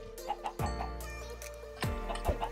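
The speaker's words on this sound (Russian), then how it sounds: "давайте сейчас мы будем кормить этих курочек" Clucking chickens in the Minecraft video game as they are fed, with several short cluck calls and a few sharp game clicks, heard quietly.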